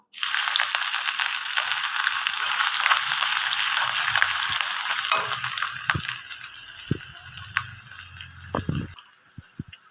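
Chopped ginger and garlic hit hot oil already used for frying soybean chunks, giving a loud, dense sizzle that fades after about five seconds, followed by a few sharp clinks of a utensil against the pan.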